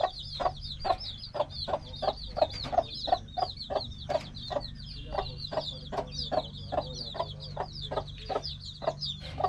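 A hen clucks repeatedly over her newly hatched chicks, sharp rhythmic clucks close by with faint chick peeps scattered in the background.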